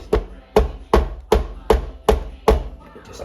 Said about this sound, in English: let's give that another shake down and a further whisk